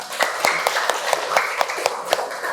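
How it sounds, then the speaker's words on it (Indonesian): A classroom of children claps together after a discussion in an Indonesian lesson, a short burst of quick, fairly loud, overlapping hand claps in an uneven rhythm. "Tepuk tangan dulu."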